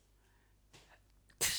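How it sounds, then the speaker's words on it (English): A single short, sharp human sneeze bursts out loudly at the very end, preceded by a faint quiet inhale. "I'm sneezing."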